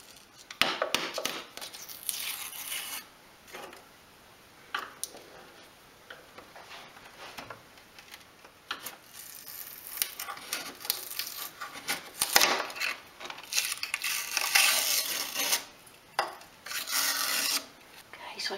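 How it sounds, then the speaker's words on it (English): A chisel scrapes old paint from a dolls house down to bare wood, a steady close rasping made of repeated strokes and short pauses, rising in places to harder scratching bursts. "What I'll actually do is get the chisel there. Have a go with that."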